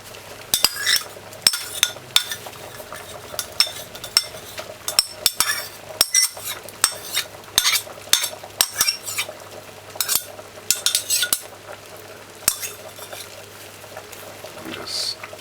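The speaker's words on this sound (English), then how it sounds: "just stir it in gently" A spoon scrapes and clinks around a pot of chicken foot stew peas while ketchup is stirred in, giving irregular close metallic taps over a low simmering hiss, with speech at times.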